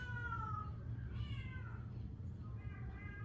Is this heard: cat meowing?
yes